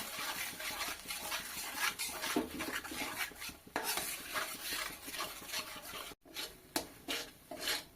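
A spoon stirs and scrapes carrot paste frying in ghee in a metal pan, with steady sizzling and repeated clinks and scrapes of utensil on pan, close and continuous, with a brief gap near the end.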